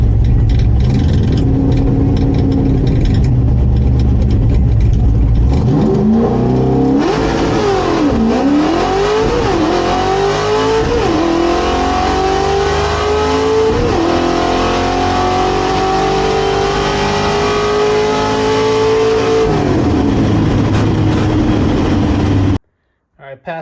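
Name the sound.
1968 Torino GT 302 drag car engine launching from starting line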